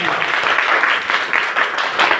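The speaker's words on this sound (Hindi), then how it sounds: "एक बार ताली बजाएं पहले डीटीएम के लिए" Dense crowd clapping from a seated audience at a business seminar, loud and continuous throughout with no talk over it.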